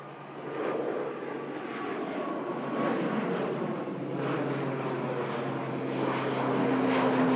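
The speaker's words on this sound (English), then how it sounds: "Just see the tail there as the aircraft spools up for departure to the Isle of Man." An airliner at Manchester Airport spools up its engines for departure to the Isle of Man, a steady distant roar that slowly builds in loudness, with a faint rising whine near the end.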